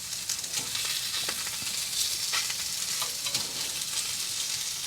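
Maple sausage sizzling and frying in a pan for breakfast at a winter camp in the North Carolina mountains, a steady close hiss with small pops and crackles throughout, no talking.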